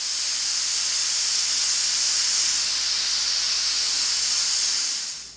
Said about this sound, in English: So let's go ahead and start releasing the steam.